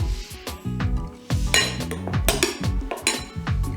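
A spoon stirs a barbecue marinade in a bowl, with repeated clinks and scrapes of utensil against the dish in an uneven rhythm, close and fairly loud.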